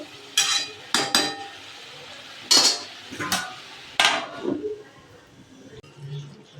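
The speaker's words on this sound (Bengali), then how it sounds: "এবার আবার একটু ঢাকা দিয়ে দেবো।" Several sharp metallic clanks and scrapes ring out close by as a lid is set onto a pot of meat curry, a few quick knocks, then a quieter stretch with faint kitchen noise.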